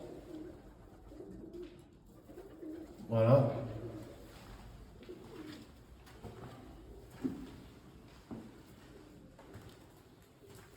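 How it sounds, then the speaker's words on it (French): Pigeons coo softly from the attic of an abandoned psychiatric hospital, low repeated calls in a quiet, echoing space, with someone speaking briefly and occasional footsteps or creaks nearby. "Où il y a les pigeons. On les entend."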